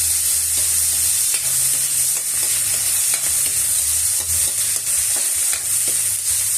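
Onions and tomatoes sizzle steadily in a hot pan while being stirred for mussels being sautéed, a continuous close frying hiss with soft scraping stirs throughout.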